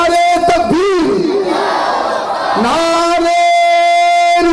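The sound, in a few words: crowd shouting response to Nara-e-Takbir slogan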